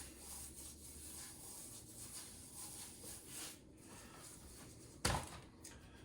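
Hands rub curing salt and pepper onto a slab of pork belly for bacon, a quiet continuous scraping rub followed by one sharper brush or thud near the end, with no voices.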